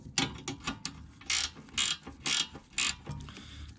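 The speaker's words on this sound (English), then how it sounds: "I'm actually going to go ahead and use a 13 millimeter ratcheting wrench. So let's go ahead and we'll back that thing off while holding the 15 on this side." A 13 mm ratcheting wrench backs off a brake caliper bolt on a 2006-2010 VW Jetta MK5, giving a run of close, quick ratchet clicks broken by several short scraping bursts, with no talk.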